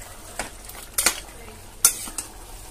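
Mutton roasting in a pan for spicy Uttarakhand pahadi-style curry, a low sizzle broken by a few metallic spoon scrapes and knocks as it is stirred, close with no talk.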